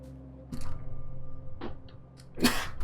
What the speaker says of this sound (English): Wow, don't hold back your sneezes.